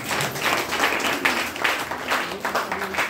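Audience applause at a Hindi-language health and product talk, a steady mid-level wash of clapping with some voices mixed in throughout.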